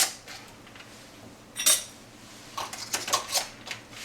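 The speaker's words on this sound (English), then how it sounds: "once you get your lids on, you want to put a band on each one of them" Metal lids and screw bands put onto hot jars of watermelon jelly: scattered close clinks and light metallic taps, a sharper clatter near the middle and a quick cluster of clinks toward the end, no talk.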